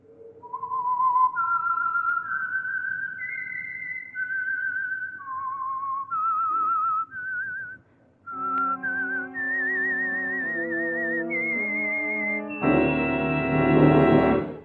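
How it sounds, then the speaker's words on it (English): A lone whistled melody, steady and clear, with a few held notes and a trill, then fuller orchestral music swells in near the end. "the signal to listen for is this whistle"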